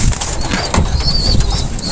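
Racing pigeons flap their wings inside a loft, a dense, continuous fluttering with quick overlapping beats held close and fairly loud for two seconds, over faint background noise.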